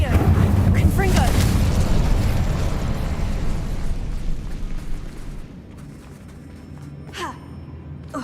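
A Confringo blasting spell erupts in Hogwarts Legacy, a loud booming explosion with crackling bursts that slowly decays into quieter rumble and scattered pops, with a voice speaking over it.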